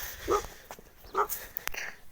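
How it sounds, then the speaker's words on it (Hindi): A village dog in rural Punjab barks at close range, giving two or three short sharp barks separated by brief pauses, with no talk over it. "ये कुत्ता मुझे घौर घौर के देख रहा है और भौंक रहा है।"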